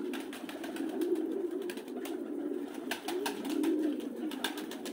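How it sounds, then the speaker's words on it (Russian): Domestic fighting pigeons, grey-maned black-tailed birds kept in a dovecote in Nakhalovka, Tbilisi, Georgia, coo in soft, low, rolling phrases that overlap steadily, with faint clicks and rustles around them. "Основная птица здесь сизогораны, чернохвостые."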